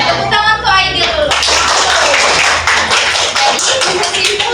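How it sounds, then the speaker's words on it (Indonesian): Fourth-grade elementary pupils clapping in a classroom for a classmate, a short burst of brisk hand claps with some voices briefly over it at the start. "Tepuk tangan untuk Aidil dulu."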